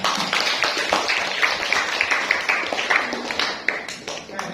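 A class of students claps during a group discussion session, with scattered, uneven hand claps close by and people talking over them throughout.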